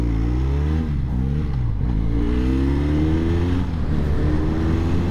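Benelli Leoncino 500 Trail motorcycle being ridden, a loud, continuous engine drone with smooth rising and falling pitch as it shifts and accelerates, close up with wind noise.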